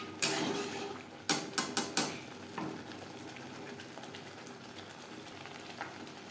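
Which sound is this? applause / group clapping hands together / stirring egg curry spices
stirring egg curry spices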